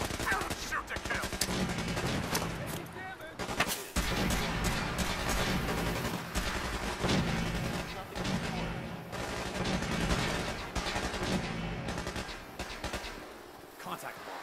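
Gunfire in the game Fallout 4, dense bursts of rapid shots and automatic fire running continuously, loud and mixed with shouted voices and music.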